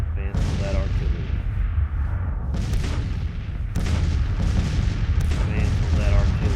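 Artillery fire in the video game Grand Tactician, set in 1863: repeated heavy booms and rumbling cannon blasts over a constant low battlefield roar, with a voice talking over part of it.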